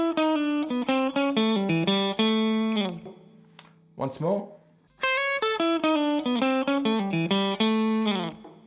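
An electric guitar plays a country lick with a pull-off and a slide through an effects unit, clean bright notes in quick phrases repeated twice, separated by a short spoken line.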